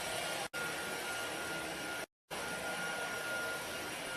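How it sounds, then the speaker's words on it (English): An iXlion cordless stick vacuum cleaner runs with a steady, loud broadband whir and a faint high whine, cutting out briefly twice before resuming at the same level. "I can literally vacuum all day"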